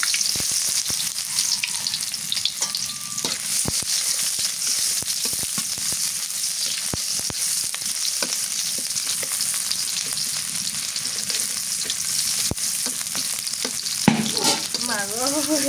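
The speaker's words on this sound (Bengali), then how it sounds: "পেঁয়াজ কুচি দিয়ে দিই" Chopped onions hit hot mustard oil in a kadai, setting off a steady, close sizzle of frying that runs throughout, with scattered clinks and scrapes of stirring and no talking.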